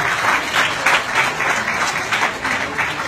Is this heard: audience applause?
yes